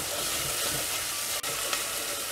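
Ginger and garlic sauté in a clay mud pot with a dense, steady sizzle close by and a soft scrape of stirring, with no voices.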